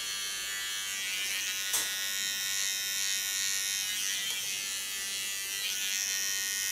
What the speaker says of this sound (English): This I do only with the tip of my clipper.